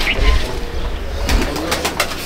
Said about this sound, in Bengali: এটা হচ্ছে ফ্লাইং লফট পায়রা